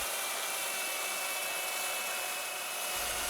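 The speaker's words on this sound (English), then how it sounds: "with the belt sander" A belt sander grinds off excess plywood while catamaran cross beam towers are being built, a continuous loud hiss with a steady abrasive whine and no pauses.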